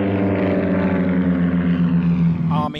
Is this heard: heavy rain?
no